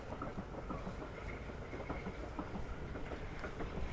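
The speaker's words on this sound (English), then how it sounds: "So that train's just coming into Britomart Central" A train pulling into Britomart Central station in Auckland, heard as a steady low rumble and rail roar that holds evenly throughout, moderately loud with no voices over it.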